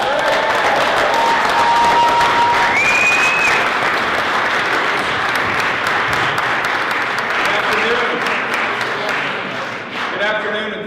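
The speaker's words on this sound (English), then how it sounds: "Give him a big round of applause." A crowd at a health freedom rally in Oklahoma City claps loudly and continuously for a state legislator. Thick, sustained applause dips slightly near the end as a voice begins to speak.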